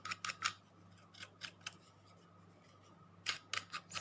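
A craft blade cuts and scuffs the edge of a vintage book page, making quiet, brisk scraping strokes in two short bursts separated by a pause, close up over a faint steady hum.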